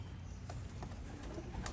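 Young racing pigeons coo softly in a loft before a 50-mile toss, low murmuring calls blending into a steady dense background rumble, with no talking.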